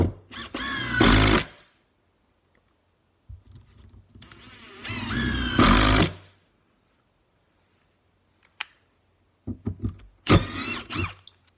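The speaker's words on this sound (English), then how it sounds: "I'm being careful to screw each screw into fresh wood so that the resistance is similar in the same piece of wood." A Ryobi brushless drill drives screws into fresh wood in three separate bursts, each a loud rising whine lasting about two seconds, with short quiet gaps and faint clicks between them.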